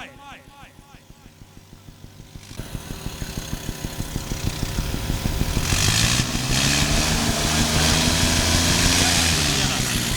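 A tractor engine runs at a tractor disc-pulling competition in Jhelum district, chugging in a steady, rapid rhythm that grows louder and harsher as it revs, heard close up under an announcer talking loudly over a PA system.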